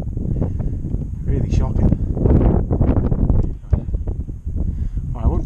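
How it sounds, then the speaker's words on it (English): Wind buffets the microphone outdoors in a rough, continuous rumble, loud and close, while someone talks over it. "the wind is blowing up"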